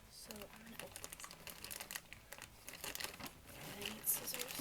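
Crinkly plastic packaging around a burger plush toy being handled and pulled open, with rustling and crackling throughout at close range.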